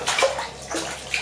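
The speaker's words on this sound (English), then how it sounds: "here he is just splashing around" A baby splashes in bath water in a bathtub, two short bursts of sloshing, close and fairly loud, with no talk.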